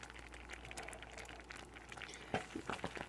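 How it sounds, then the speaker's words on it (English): Butter, evaporated Carnation milk and brown sugar bubble in a pot for old-fashioned brown sugar fudge, giving a steady low simmering hiss with soft pops and a few brief clinks near the end. "when your butter, carnation milk, and brown sugar are boiling"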